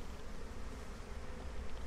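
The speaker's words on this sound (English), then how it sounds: "Like these bees are kind of coming a little bit close to us." Bees buzz in the Massive Chalice video game as a steady, faint, droning hum with no talking over it.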